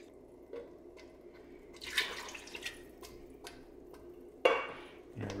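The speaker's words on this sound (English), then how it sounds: "And I'm going to pour this back and forth between the cans" Water is poured back and forth between tomato puree cans in a kitchen. Scattered drips and short splashes come with a few sharp metallic clinks, fairly quiet and close.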